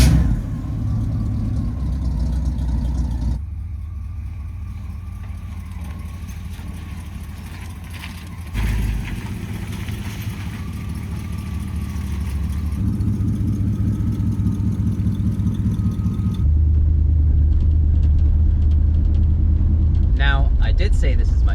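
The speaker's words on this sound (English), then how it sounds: "we can finally get into the first drive in my 1962 Impala" A 1962 Chevy Impala's engine rumbles steadily from inside the car on a drive, low and continuous, swelling as it accelerates in places, with talk over it.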